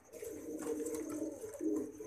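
Pigeons coo in low, throaty rolling calls, several overlapping and fairly close, with a steady murmur of other birds behind them.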